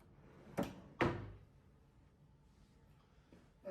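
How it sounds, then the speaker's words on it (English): Hotel room drawers sliding open and shut, two sharp knocking thuds close together followed by quieter rustling and another bump at the end. "Like a couple of drawers here."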